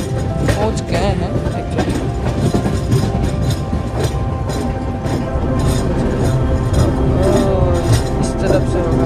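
A train pulling into Rangiya railway station, with steady rumbling, clanking and metallic squeals under continuous chatter and voices on board.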